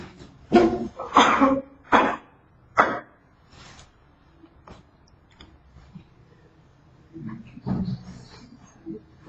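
A person coughs in a university linear algebra classroom, a cluster of several loud, close, harsh coughs early on, followed by quieter throat sounds and faint room noise.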